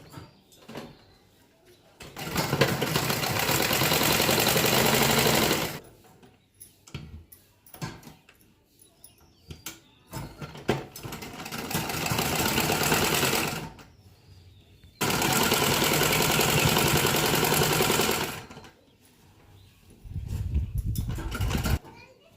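An electric sewing machine stitches an embroidered blouse, running in several steady whirring bursts of a few seconds each, separated by quieter pauses.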